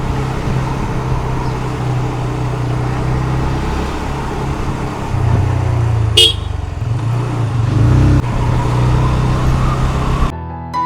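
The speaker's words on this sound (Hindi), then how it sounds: "भैया टैक्सी इतनी स्पीड में जा रही है" A taxi speeds past close by, its engine noise swelling loudly and then easing off, with a brief horn toot.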